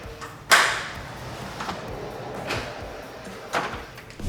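A pocket door handle lock is latched: a sharp metallic click comes up close, followed by a few lighter taps and small sliding knocks against the door hardware, with no speech.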